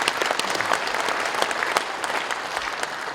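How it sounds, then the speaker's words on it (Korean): A church congregation at a national elders' union prayer meeting breaks into steady, dense applause, many hands clapping together at an even level throughout with no voices on top. "박수 한 번 해주세요."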